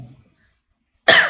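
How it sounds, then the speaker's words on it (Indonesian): A single sharp cough bursts out loud and close after a stretch of near silence, with a faint murmur at the very start. "Batuk."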